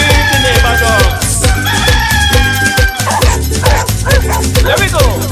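Dog barks and rooster crowing blend into a Vincentian soca parang song, playing over a driving beat and bright backing music, loud and up front with the animal sounds punctuating the rhythm.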